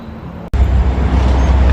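A train rolls past behind the businesses near a historic depot, a loud low rumble that cuts in after a brief dropout and then holds steady and close.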